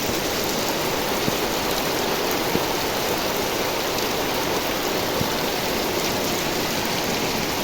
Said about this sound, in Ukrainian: Ой, який дощик.